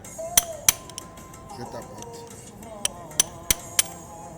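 Light metallic taps seat an injector seal on a 1.6 DV6 diesel engine, a pair of sharp clinks, a pause with faint handling noise, then four more spaced taps, close and crisp.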